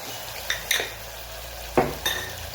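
A utensil stirs coriander-cumin powder, red chili powder, turmeric and salt into vegetables in a cooker pan, giving a few sharp metallic scrapes and clanks separated by short pauses over a faint sizzle.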